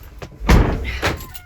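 A door thuds shut on a Mercedes Sprinter van, close and solid, followed by a second lighter knock as the latch settles, with faint rustling around it.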